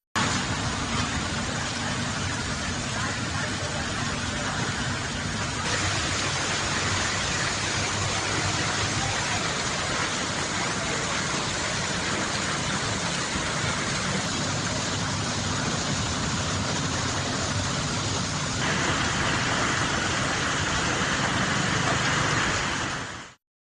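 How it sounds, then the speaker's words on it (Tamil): Heavy rain pours down during a downpour in Rajasthan, Gujarat, Delhi and Kerala, with flooding around homes in south Delhi; a dense, steady roar of rainfall holds at the same loudness throughout, with no talking. "ராஜஸ்தான், குஜராத், டெல்லி மற்றும் கேரளாவில் கனமழை கொட்டுகிறது"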